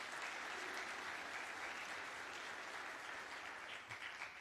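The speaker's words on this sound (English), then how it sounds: "So we're glad that there was applause." Steady audience applause fills the whole stretch, a dense, even wash of clapping from a crowd with no break or speech over it.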